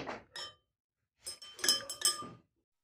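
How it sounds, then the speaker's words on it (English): Glass rod clinking against glassware while stirring potassium iodide into hot water in a beaker, a few short bright taps in two brief bursts separated by silence. "I added some potassium iodide and mix it well with the help of glass rod"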